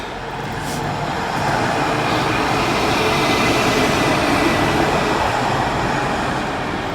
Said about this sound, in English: What just passed is a tram, but that particular type of tram, they are not carrying any passengers.